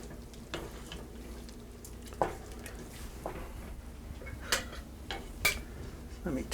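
Lamb bolognese sauce stirred in a pot, a soft simmering hiss under scattered spoon clinks and scrapes against the metal, close and fairly quiet, with no talking.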